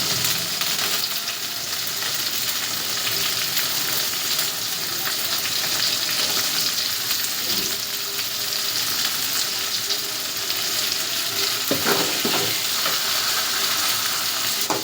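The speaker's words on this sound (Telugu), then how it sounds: "వేసి ఇలా బాగా ఆయిల్లో ఫ్రై చేసుకోవాలండి" Black-eyed peas fry in oil with tomatoes, giving a steady, loud sizzle and crackle that runs unbroken throughout, with a few brief stirring scrapes near the end and no talk.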